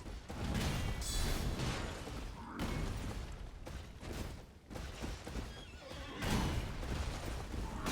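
A horse whinnies and snorts in the video game Elden Ring, several loud bursts separated by brief gaps, set against game ambience with no talking.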